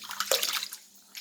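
Water poured off rice soaking for samba mutton biryani, a brief splashing pour with a bright burst near the middle, then a quieter trickle fading out.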